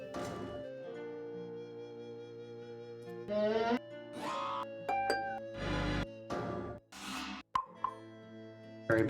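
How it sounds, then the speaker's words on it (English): Footsteps on steps in the Nancy Drew: Curse of Blackmoor Manor video game, each step setting off an odd, sustained musical tone, several in sequence with sharp bursts between them over a layered synthetic background. "Okay, each step makes a weird sound."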